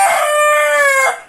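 A rooster crows loudly and close by at five in the morning, one sustained harmonic call that holds steady and then tails off near the end.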